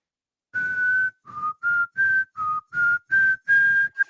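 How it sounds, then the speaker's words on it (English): A person whistles the Michigan fight song, a clear, close tune of about eight distinct notes in a brisk, bouncing rhythm with short gaps between them, heard alone. "I'm whistling the Michigan fight song."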